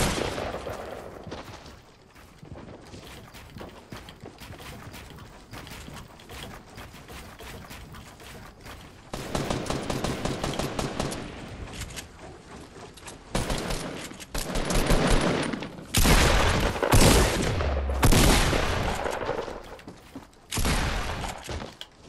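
Bursts of automatic gunfire from a Fortnite Battle Royale firefight, dense rapid volleys that build louder toward the end with sharp separate blasts and heavier sustained fusillades.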